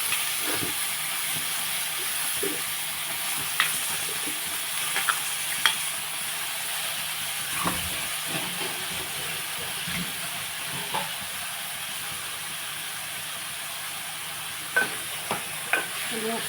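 Brinjal and raw mango curry cooking in a pan, a continuous hissing sizzle with scattered soft scrapes and knocks of a spoon as it is stirred, steady and close throughout.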